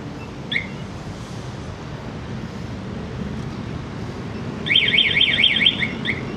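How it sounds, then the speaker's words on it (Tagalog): Anti-theft alarm of a locked CFMOTO CLC-450 keyless cruiser motorcycle: a short chirp, then a sustained warbling electronic siren tone over steady outdoor wind noise, fairly close and moderately loud. "Ayan, may alarm siya, di ba?"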